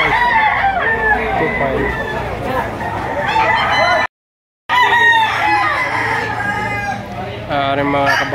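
Roosters crow again and again among fowl at the Lipa City auction market, loud and near, with clucking between the calls while people haggle over prices; a short gap of silence breaks the sound midway.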